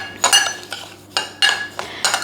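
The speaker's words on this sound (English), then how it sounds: "So all you have to do is whisk it up." Kimchi seasoning whisked in a bowl for daikon and carrot kimchi, heard as bursts of metal clinking and scraping against the bowl in several rapid rounds with brief pauses, close and fairly loud, without talk.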